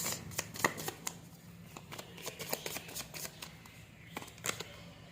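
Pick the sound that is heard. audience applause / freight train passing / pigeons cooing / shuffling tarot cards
shuffling tarot cards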